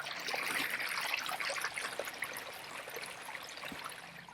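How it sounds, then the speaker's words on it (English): An RV's gray water tank, holding sink and shower water, drains down to a thin trickle: a steady, close hiss of running water that eases slightly toward the end, with no voices. "our gray water is down to a trickle now"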